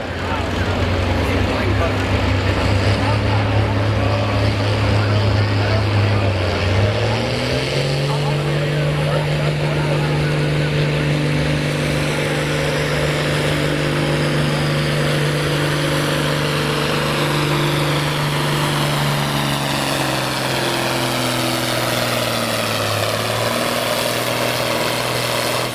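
A modified farm tractor from the 1970s, built for pulling, roars steadily at a tractor pull, its deep engine drone shifting pitch as it pulls, with an announcer talking over it throughout.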